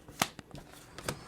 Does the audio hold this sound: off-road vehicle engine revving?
no